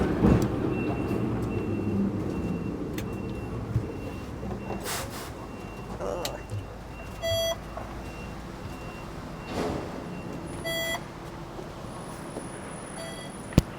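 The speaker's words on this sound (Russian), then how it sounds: "Прикольные трамвайчики, они такие деревянные, старенькие." A rattling, rumbling ride on an old wooden tram in Hong Kong, with steady wheel noise, occasional clanks and creaks, and a few faint electronic beeps.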